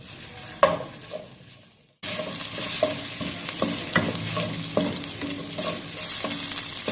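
Ginger garlic paste fries in a tablespoon of oil in a pan, a steady close sizzle that starts abruptly after a quieter stretch, with stirring scrapes and occasional utensil clinks throughout.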